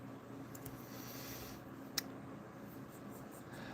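Pencil sketching out a painting, soft continuous scratching of graphite on paper, faint and close, with a single sharp tap midway.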